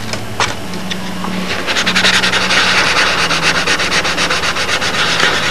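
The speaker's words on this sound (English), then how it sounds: "I like to sand very carefully because I don't want to go and create low spots here" Careful hand sanding of a model aircraft surface, a steady abrasive rubbing with rhythmic back-and-forth strokes that grow slightly louder, close and continuous with no talking.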